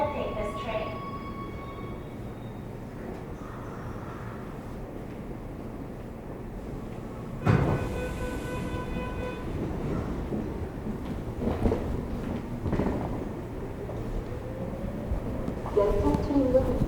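Seoul subway train rumbling into a station, a steady low rolling drone with brief metallic clanks and squeals, a loud jolt near the middle, and chime tones and announcement voices over the hum.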